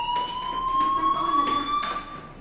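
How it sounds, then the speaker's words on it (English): A fire alarm rings in the video game Life is Strange, a steady electronic tone with slight rising pitch, sustained for a couple of seconds at moderate level with faint background sounds. "do you hear that fire alarm? That means you should be outside."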